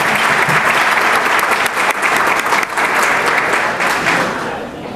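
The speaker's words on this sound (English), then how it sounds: "Let's send them back to school with one more round of applause." A loud, sustained round of applause at a school awards breakfast fills the room, dense clapping that holds steady and begins to taper off at the very end.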